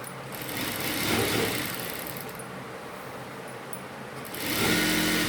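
Sewing machine running a seam on an umbrella gown, a continuous close mechanical hum that swells and eases, rising again near the end, with no talking.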